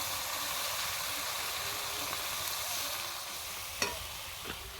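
Chili paste, cumin paste and ground cumin-coriander fry in hot oil with turmeric, giving a steady, close, loud sizzle. A couple of sharp utensil clinks come near the end. No voices.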